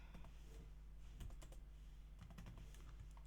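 Typing on a computer keyboard while editing HTML: quiet, close key clicks in loose irregular clusters over a steady low background hum, with no talking.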